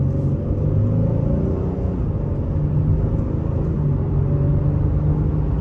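A 2023 Honda Pilot EX-L with a new 10-speed transmission pulls away under moderate throttle, a steady low cabin rumble of engine and road noise building smoothly throughout.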